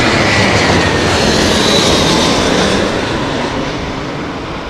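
An Etihad airliner at Heathrow Airport in stormy conditions, heard as a loud, steady broadband jet roar mixed with wind that holds for most of the stretch, then eases slightly toward the end.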